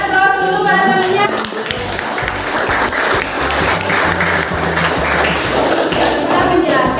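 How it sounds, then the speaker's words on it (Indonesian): Classroom students applauding a classmate after a good answer, a loud, dense burst of clapping from the whole group that holds steady for several seconds with some mixed voices. "Ya, berikan aplaus dulu pada temannya."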